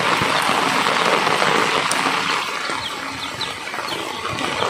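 Steady rain falls in a dense, hissing wash, with a few occasional bird chirps faintly audible through the downpour.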